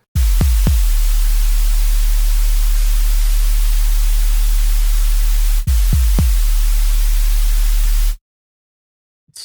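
Loud, constant white noise hisses over a deep sine-wave bass that thumps in short punchy notes with slight pitch modulation, pausing briefly and then cutting out to silence near the end.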